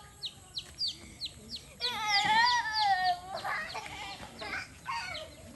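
Chickens cluck and squawk near a family birthday gathering where lechon is being prepared, with short repeated clucks at first and then a louder, longer run of calls and cackling, overlapping faintly with background voices.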